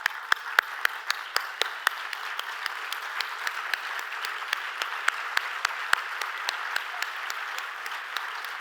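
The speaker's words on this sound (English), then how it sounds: "So please give them a round of applause." Audience applause at a children's charity benefit gala: sustained, even clapping from a sizeable crowd, steady and fairly loud throughout with individual claps standing out near the microphone.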